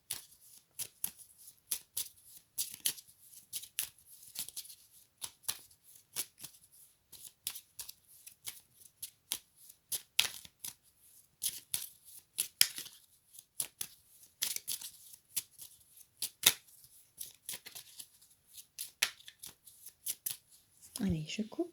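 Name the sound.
shuffling and cutting a deck of oracle cards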